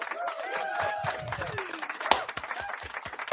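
A played clapping sound effect gives a quick run of sharp, evenly spaced claps, heard close after a stretch of muddled voice and noise.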